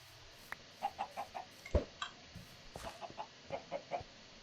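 Chickens in the Minecraft video game cluck in short, evenly spaced bursts over a low background hum, with no voices.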